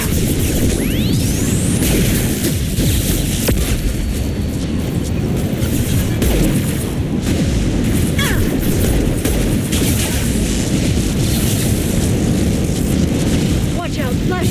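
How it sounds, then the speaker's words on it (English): Flashbang grenades going off in the video game Mass Effect 2, a dense run of bangs, booms and crashing gunfire over fourteen seconds of loud combat, with voices shouting through it. "Watch out, flashbangs!"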